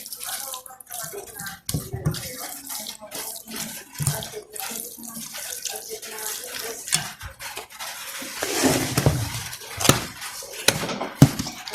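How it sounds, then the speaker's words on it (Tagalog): A carrot burger mixture is stirred by hand in a bowl, giving irregular wet squelches, clinks and scrapes that come and go, close and fairly loud, with no talking. "Just mix it very well."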